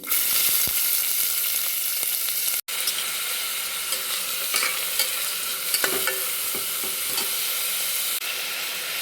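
Onion and garlic hit hot oil in a cooker with a loud, close sizzle and crackle, the bright hiss running steadily with scrapes of stirring and one abrupt brief dropout.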